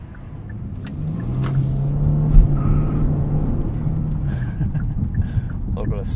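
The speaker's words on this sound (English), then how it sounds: "a second gear tire fire there" A 2018 Genesis G80 3.3T Sport rear-wheel-drive sedan spins its tires in second gear, a brief rising squeal over loud engine rumble, heard from inside the car.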